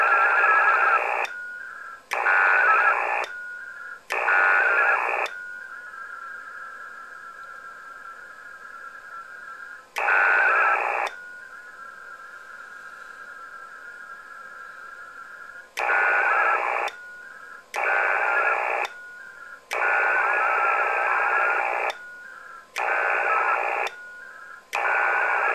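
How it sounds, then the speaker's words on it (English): Amateur radio channel heard through a Signalink USB interface: loud bursts of hissing static switch on and off in an irregular pattern, with a steady tone between bursts and no voices. "You can actually hear the high level of noise on the channel."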